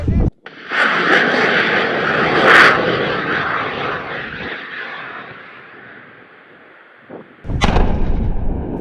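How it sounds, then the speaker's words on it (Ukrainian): A rocket-propelled mine-clearing line charge launches about 300 metres away with a sharp bang and a long roaring whoosh that fades into the distance, followed by another loud blast. "Подовжений заряд розмінування стартуватиме з реактивним двигуном метрів за 300 від нас."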